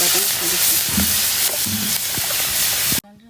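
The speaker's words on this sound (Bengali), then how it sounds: "সব ওদের মশলা দিয়ে কষাই নেব" Onion, cumin and garlic paste frying in oil for a fish curry makes a loud, close, hissing sizzle. Stirring clinks sound through it, and it cuts off abruptly near the end.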